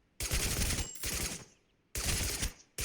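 Two long bursts of automatic gunfire from an all-round gun in the battle royale game TABG, loud and close, each roughly a second, then a brief third burst.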